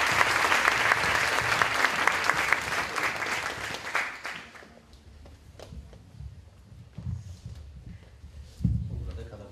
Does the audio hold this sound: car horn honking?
no